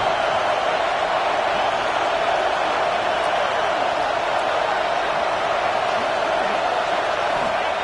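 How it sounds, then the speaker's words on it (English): Stadium crowd noise at a football game, a broad, continuous roar of many voices, steady and fairly loud throughout, with no distinct individual speech. "This crowd is trying to inspire this defense to make a big red zone stop."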